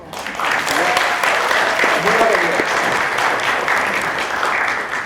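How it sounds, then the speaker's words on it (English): A Toastmasters audience breaks into warm applause for a speaker's mentor, a full, sustained roar of many clapping hands that swells quickly and holds, with a few voices briefly audible beneath it. "Could you please give him a big round of applause?"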